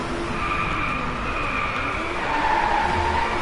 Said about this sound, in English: that's a good drift